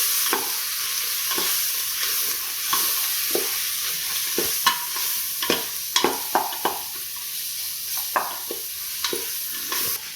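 Garam masala stirred in a hot pan while frying for mushroom biryani, a steady sizzle broken by repeated sharp scrapes and clicks of the spoon against the pan, close and fairly loud.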